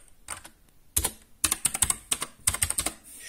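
Keys clack on a Gametech Black Rider gaming keyboard with blue switches, typed close up in short bursts of sharp clicky presses separated by brief pauses, with no talking.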